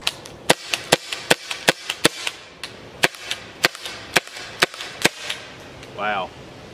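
A Byrna HD CO2 launcher fires practice rounds at a range: about fifteen sharp, close pops in an uneven rapid rhythm, with a brief voice at the end.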